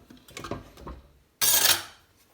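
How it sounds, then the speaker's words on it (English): A spoon scrapes and taps as mince is spooned onto a trimmed wrap for a homemade Taco Bell style dish, giving a few soft clinks, then a brief louder metallic scrape, close and alone. "So first in this, we're going to add our mince."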